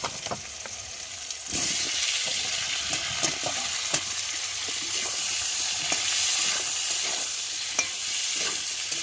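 Potatoes frying in hot oil with garlic, a constant close sizzle that grows louder after a moment, broken by stirring scrapes and small pops, with no talking.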